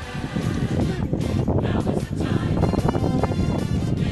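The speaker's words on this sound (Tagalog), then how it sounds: "Lakas ng hangin." Strong wind buffets loudly and continuously, gusting and rumbling as it batters nearby, with no voices heard.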